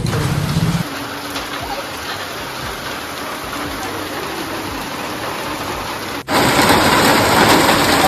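Steady rain falls outdoors as a dense, even hiss that briefly shifts then returns louder and fuller near the end, close and continuous without clear speech.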